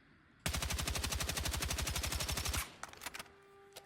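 Rapid automatic rifle fire in Battlefield 6, a loud, close burst of evenly spaced shots lasting about two seconds, followed by a few scattered clicks and faint impacts.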